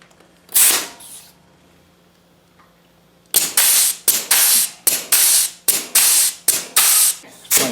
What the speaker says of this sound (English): let's see if we can pump some of the grease in here